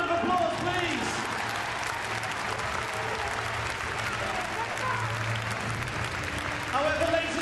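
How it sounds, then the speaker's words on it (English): Outdoor audience applause at an RAF display team show, a continuous patter of clapping from a crowd, moderately distant, with brief voices heard over it at the start and end. "a massive round of applause, please"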